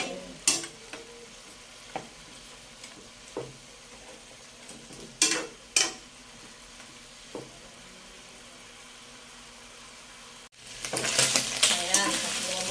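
Pork adobo with potatoes being sautéed in a pan, with a steady background sizzle, occasional scraping stirs and utensil knocks, then a burst of loud, dense frying near the end.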